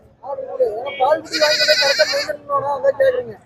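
Goats, including milk-fed kids, bleat loudly and close by at the Moonampalli goat market, with drawn-out wavering calls and people talking nearby.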